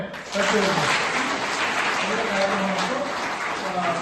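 Loud crowd applause, dense and continuous, with a voice speaking over it throughout, at an International Women's Day ceremony honouring women achievers in Mandya.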